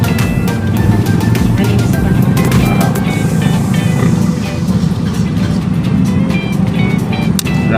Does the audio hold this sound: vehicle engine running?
yes